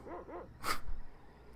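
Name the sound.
dog barking in video game Secret of Evermore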